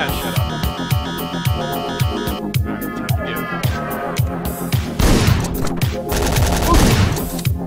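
Rapid repeated gunfire pops in bursts in the video game Hotline Miami over a pulsing synth soundtrack, growing denser and louder toward the end.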